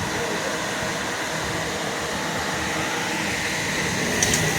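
A homemade air cooler built on a budget runs steadily, its fan giving off a constant broadband whooshing hum at close range with no break in level.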